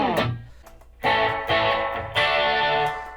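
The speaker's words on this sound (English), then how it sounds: "Too much slapback reverb, too much treble." Electric guitar played through a HeadRush pedalboard into a Line 6 StageSource L3t speaker, with bright treble and slapback reverb; a few loud strummed chords ring out in separate bursts, alone and close.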